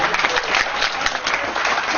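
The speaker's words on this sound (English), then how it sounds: "Standing ovation and round of applause, please." An audience at a celebration ceremony claps in a dense standing ovation for an arriving ambassador, loud and continuous for the full stretch.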